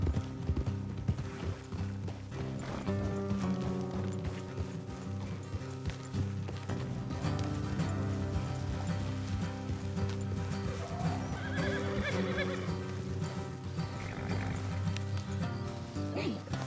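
Horses whinny and snort while hooves clip-clop steadily, with harness jingles and low rumbling in the background, all from a game soundtrack.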